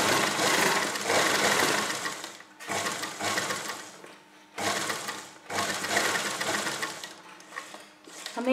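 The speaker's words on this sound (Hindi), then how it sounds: "अब हम यहाँ पर इसके किनारे किनारे सिलाई लगा लेंगे।" A sewing machine stitches along a fabric edge for a neck and sleeve pattern, running close and loud in a fast steady rattle with several brief pauses and restarts.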